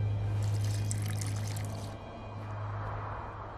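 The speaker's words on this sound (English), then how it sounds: "A bit of water." Water poured into a mixture of burnt lime during a dye-making step in The Witcher 2, a steady trickling pour for about two seconds that then fades into quieter ambience.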